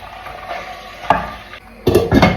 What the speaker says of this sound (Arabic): باش نحط فوقه البصل خليني نقلب شويه